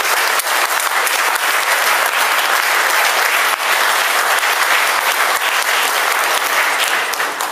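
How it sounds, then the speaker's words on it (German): Sustained, dense applause from a large crowd, steady and loud throughout with no pauses. "das ist der erste große Applaus wert."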